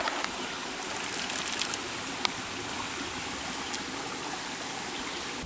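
Water pours steadily from a potable spring on a hiking trail, a broad continuous rushing splash close by with an occasional small click and no talk.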